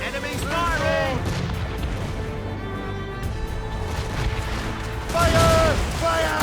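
Ship cannons in Assassin's Creed Rogue boom in heavy volleys during a naval battle, with a louder burst near the end, while crew voices shout throughout.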